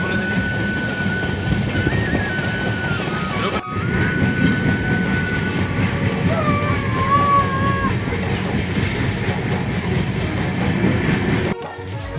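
Train pulling into Jagdalpur railway station, a steady loud rumble of railcars with rhythmic wheel clatter and occasional high squeals throughout, over faint voices in the background.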